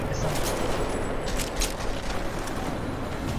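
Gunfire in the video game Deus Ex: Mankind Divided, a burst of several sharp shots over a loud, dense game soundscape, close and forceful.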